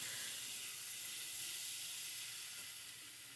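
Spices and bata fish curry sizzle steadily in a pan, a close, even hiss of frying that holds constant and fades only slightly, with no voices over it.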